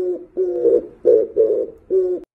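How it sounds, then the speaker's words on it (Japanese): An Oriental turtle dove coos in the morning in the Japanese countryside, giving a rhythmic series of five low, hooting notes in a steady pattern, loud and close with no other sounds. "この朝方に一定のリズムで鳴く鳥いますよね。 調べてみたところ、キジバトという鳩らしいですね。"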